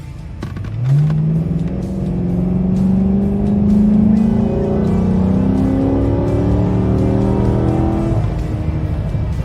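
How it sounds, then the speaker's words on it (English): A car engine fitted with a cold air intake revs up with a deep throaty intake growl, rising in pitch then holding a loud steady drone up close. "You can hear the grunt of the engine now, which is amazing."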